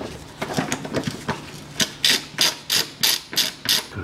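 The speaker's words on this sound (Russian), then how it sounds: "Откручиваю 4 болта." A ratchet wrench clicking as it works bolts loose on a Range Rover Evoque 2.2 undercarriage: a few soft rubs, then a run of crisp, evenly spaced ratcheting clicks close by.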